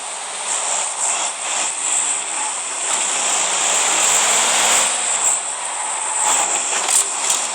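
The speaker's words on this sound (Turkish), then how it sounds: "Evet uçak burada." Airplane droning overhead in the PUBG Mobile video game, a steady loud engine hum that swells slightly in the middle, heard alone without talk.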